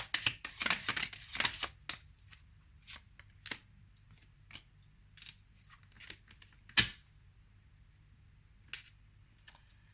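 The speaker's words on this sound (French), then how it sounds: "Donc on va maintenant prendre quelques cartes de l'oracle de Mélisse." Oracle cards being shuffled and handled, a quick flurry of crisp riffling and flicking near the start, then scattered soft taps and slaps as single cards are drawn and laid down in a quiet room.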